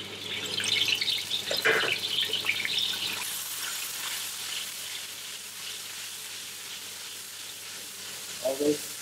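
Onion frying in hot oil with curry paste for beef curry, a steady soft sizzle and crackle close by, with a brief stirring scrape and a small clatter near the end.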